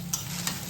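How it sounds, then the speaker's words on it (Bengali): Rice fries in a pan under a steady sizzle, with two quick scraping stir strokes close by. "এই যে এখন ভাতটা ভাজা করতেছি।"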